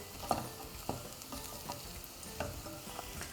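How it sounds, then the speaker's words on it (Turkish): Onion and broccoli sizzle in a hot pot while a spoon scrapes and stirs with soft, irregular clinks; no voices. "Her şeyi güzelce karıştırıyorum. Soğan ve brokoli."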